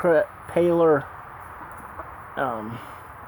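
Small backyard hens make a few drawn-out, wavering clucking calls close by, with short pauses between them over a quiet background.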